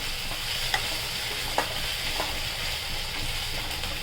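Cabbage, chickpea and potato curry frying in a pan, a dense close sizzle with a couple of sharp stirring clicks and scrapes, steady throughout with no voices.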